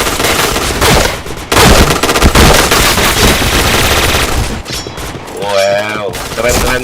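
Rapid automatic gunfire in a video game: loud, dense bursts of shots fire almost without pause, with a short break partway through, and a voice calls out briefly over the shooting.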